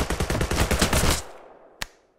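Rapid burst of weapon fire in the video game Sword with Sauce, a dense loud volley lasting about a second, then a lone sharp shot after a short gap.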